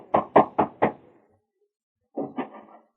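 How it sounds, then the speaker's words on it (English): Four sharp knocks rap on the wooden door of a house in a radio drama, evenly spaced and close, followed by a pause and then a voice speaking. "We hear him as he raps on the door of Jim's home"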